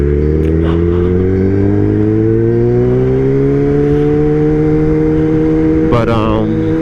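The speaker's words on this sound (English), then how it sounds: "To start a day with a motorcycle ride." A Kawasaki ZX-10R sport motorcycle drones steadily on a morning commute, its engine note rising gradually as it accelerates, with wind rush and a brief burst of extra noise near the end.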